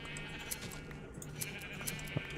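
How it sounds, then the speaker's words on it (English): Minecraft sheep bleating while being sheared, a few short synthetic baas over a steady background hum, near and moderately quiet. "Shear all the sheep."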